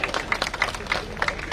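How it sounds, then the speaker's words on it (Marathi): A crowd at a rally applauds in short, loose bursts of clapping, moderately near and fairly even, with a murmur of voices under it. "त्यांना 3 टाळ्या वाजवा दोघांसाठी"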